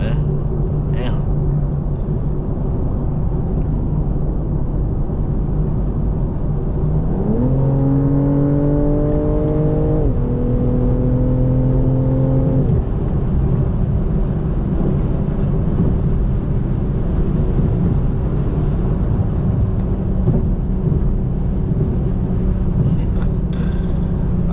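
Interior drone of a 2025 BMW M340i on the move, a steady low engine and road rumble with a brief rising rev sweep partway through, heard from the cabin under occasional talk.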